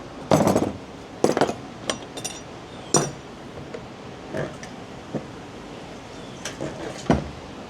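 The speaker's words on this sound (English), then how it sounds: "I'm just gonna tappy tap this ring with a ball peen." A ball peen hammer taps a blunt chisel against the locking ring of a full fuel tank on a Silverado pickup, giving about eight sharp metallic strikes at irregular intervals, close and fairly loud, with quieter ringing clinks between.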